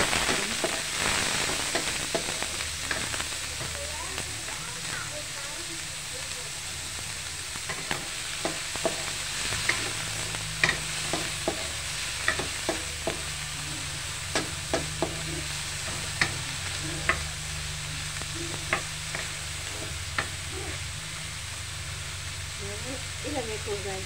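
Pechay greens stir-fry in a pan for pancit, a steady sizzle broken by repeated sharp scrapes and clinks of a utensil stirring, close and continuous, with a person talking at times.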